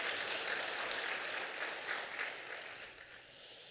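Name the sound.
church congregation applauding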